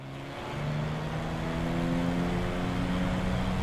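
The rear-mounted engine of an AeroElvira Optica in Microsoft Flight Simulator 2024 spools up to full power on the runway, a steady droning whir with rising tonal harmonics that swells within the first half second and then holds loud and even.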